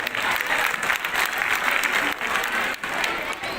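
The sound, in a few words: applause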